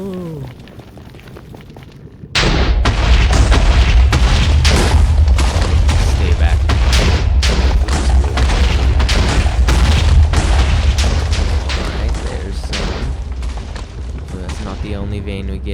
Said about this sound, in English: So I just place TNT about every 2 or so.